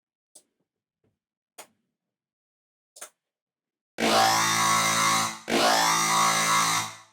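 Massive X software synth with a sub oscillator playing through high-passed reverb: three faint clicks, then two long, loud, bright sustained notes with thick harmonics and no low-end reverb tail.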